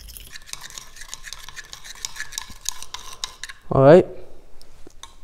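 Manganese dioxide battery powder being stirred in water inside a container, a rapid scraping and clinking rhythm running close and steady for several seconds, followed by a short louder squeak or clatter near the end.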